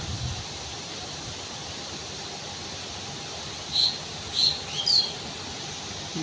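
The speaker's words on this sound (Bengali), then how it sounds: "পাখির ডাক" Birds on a farm in Rasulpur, Munshiganj, give three short, thin chirps in quick succession midway through, heard faintly over a constant hiss.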